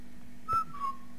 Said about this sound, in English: I don't know why I whistled